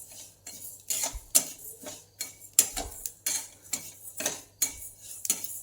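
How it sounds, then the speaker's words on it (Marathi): Flaxseeds are stirred while dry-roasting in a pan, a spoon scraping and clinking against the metal in repeated rhythmic strokes, close and alone. "जवस असं छान भाजलं गेलं पाहिजे ना, असं हलवत राहायचं, सारखं हलवायचं"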